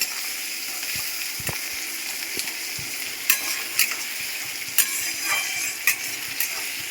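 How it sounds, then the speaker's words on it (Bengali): Onions fry in a pan with a steady, close sizzle, broken by occasional scrapes and clinks from a spoon stirring. "পেঁয়াজটা ভালোভাবে ভাজা হবে"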